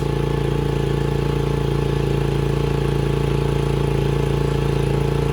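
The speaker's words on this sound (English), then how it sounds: "just let it warm up on the choke for a few minutes" A Venom X15 engine idles steadily on choke while warming up, a loud, continuous, even mechanical chug with a fast regular firing rhythm throughout and no speech.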